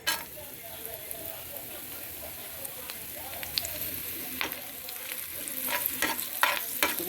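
Food frying in hot coconut oil, a close, steady sizzle with bursts of crackling and spattering that grow busier toward the end.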